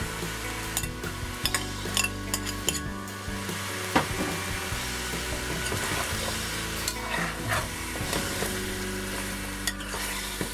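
Onion, celery, pimento peppers and hot pepper sizzle in a pot for Trinidadian pigtail pelau, a loud continuous frying hiss broken by scraping stirs and occasional utensil clinks against the pot.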